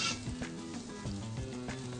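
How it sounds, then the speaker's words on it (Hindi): Ginger sizzles in a hot pan with garlic already golden, a dense close frying hiss with light crackles and the scrape of stirring, no voices. "आप अदरक को पैन में डाल दें और अदरक को अच्छी तरह 2 सेकंड के लिए आप"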